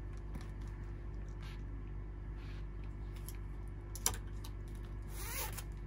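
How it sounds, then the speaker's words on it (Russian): The zipper on a sportswear jacket runs in a few quick, faint rasping pulls with one sharp click, over a low steady hum in a quiet room. "Действующая молния."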